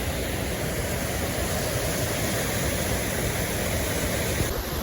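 Roar of the Vegay cascade at Aiglun, a mountain waterfall on the GR4 trail, heard close as a loud, steady broadband rush that fills the whole clip without a break.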